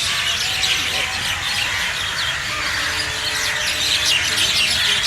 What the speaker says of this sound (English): Birds retiring in the evening.